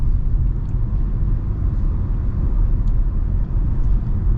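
Cabin road noise inside a moving 2025 Kia Sportage SX-Prestige: a steady, loud low rumble and hiss from tyres and road, continuous throughout with no speech.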